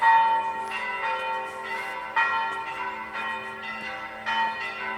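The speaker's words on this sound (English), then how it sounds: "Okay, those are the bells" Church bells of St. Agnes in Rome peal outdoors in a steady, repeated pattern of bright, ringing strikes with long overlapping resonance, heard from some distance without talking.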